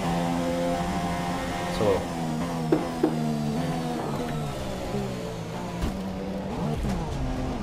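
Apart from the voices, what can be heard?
F1 car engine at full throttle, video game F1 2017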